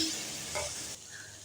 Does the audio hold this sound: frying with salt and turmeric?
yes